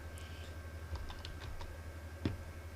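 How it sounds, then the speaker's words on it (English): A few quick, faint keystrokes tap on a computer keyboard as a game ID is typed, a short irregular run of clicks followed by one firmer key press in a quiet room. "So we're just going to type that in,"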